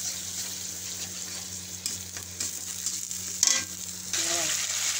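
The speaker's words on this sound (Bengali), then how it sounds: "টমেটোটা ভালো করে ভেজে নিচ্ছি" Tomato, ginger and chili paste frying in a pan, a steady close sizzle with a brief stirring scrape partway through and a slightly louder hiss toward the end.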